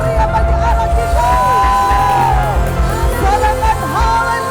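An Easter service congregation cheers and shouts praise, with whoops and yells over a busy crowd babble and sustained tonal voices or music running underneath.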